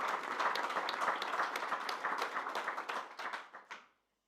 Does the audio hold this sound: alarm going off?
no